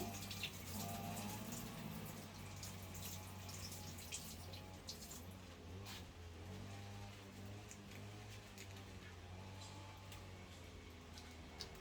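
Tap water runs steadily into a kitchen sink during washing up while spring rolls are being fried, a constant close splashing hiss throughout with no talking.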